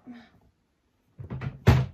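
A drawer from an art organization cabinet thunking, a couple of dull knocks ending in one solid thud, close by, after a brief bit of speech.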